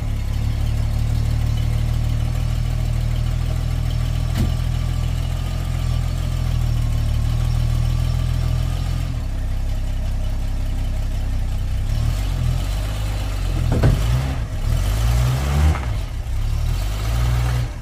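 An old vehicle engine cranks and catches in snowy winter conditions, running as a steady, close low idle before a few uneven revs and rattles; no one speaks.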